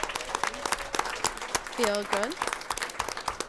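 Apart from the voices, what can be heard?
audience applause at a school committee meeting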